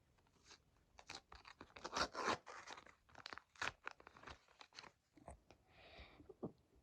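Close crinkling and tearing of thin plastic, rustling in irregular bursts as a small packet is pulled open.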